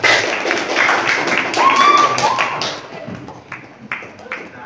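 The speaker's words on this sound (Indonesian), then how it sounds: "Tepuk tangan untuk juga Farah." Classroom clapping for a student named Farah: a short burst of hand claps and taps, fairly close and loud, thinning out over several seconds with scattered claps and thuds at the end, and a bit of voice mixed in.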